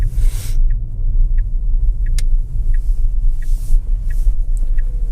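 An electric car drives on a snowy freeway during a blizzard, giving a steady loud low rumble of tyres and road noise with faint ticking in the cabin, no engine roar and no talking.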